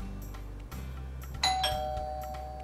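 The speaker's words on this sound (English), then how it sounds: "A doorbell sound lets us know that guests have arrived." A doorbell rings once with a bright two-tone chime whose second note lingers and fades, heard clearly over a low steady background hum with no talking.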